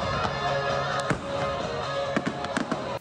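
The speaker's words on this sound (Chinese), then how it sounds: "绚烂烟火一发接着一发，排列出多种组合" Festival fireworks bursting one after another over a rainy night sky, sharp cracks and pops scattered across a steady wash of crowd and rain noise, with a loud burst close at the end.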